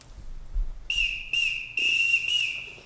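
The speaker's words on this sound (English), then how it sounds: "Everyone in this house answers to a whistle." A shrill whistle blown on a school theatre stage to summon household staff, four sharp blasts of rising length in a steady pattern, loud and close.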